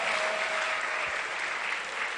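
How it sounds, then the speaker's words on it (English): At a youth dialogue event in Ghana's Central Region, an audience applauds guests as they are escorted in by the Vice Chancellor. The clapping is steady and moderately loud, with no speech over it. "Let's hear a round of applause for them."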